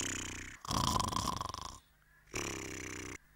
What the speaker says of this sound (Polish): Moje biuro chrapie.